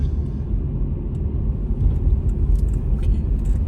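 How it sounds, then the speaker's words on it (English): A fire truck rolls past on a nearby road. Its engine rumble comes in low and steady and swells slightly toward the end, with no siren standing out. "There's a fire truck."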